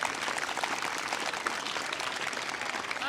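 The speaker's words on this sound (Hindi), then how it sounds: "अब बजाए ताली इनके लिए।" An audience at an Independence Day celebration held by a youth club in Banaras claps in steady, dense applause that carries on evenly throughout.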